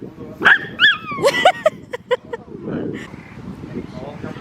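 A small sausage dog gives a few short, high yips and barks up close, mixed with people talking and laughing nearby.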